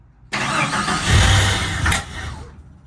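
A Jeep Comanche pickup that has been sitting cranks and fires up, the engine catching abruptly and roaring loudly up close, surging briefly before settling back toward a rough idle.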